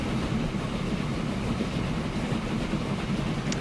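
Passenger train passing in the distance in the Transport Fever video game, heard as a continuous low, rumbling roll that stays even throughout without any speech.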